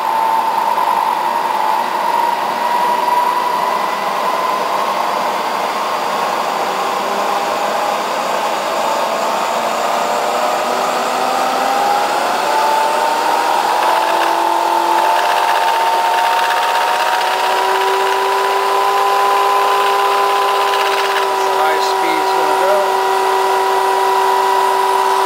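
A Vectrax GSN-20V motor and drive unit runs on its low setting with a steady, loud whine that drifts slightly in pitch and continues alone throughout.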